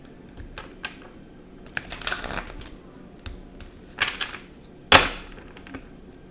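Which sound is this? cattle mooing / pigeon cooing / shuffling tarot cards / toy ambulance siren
shuffling tarot cards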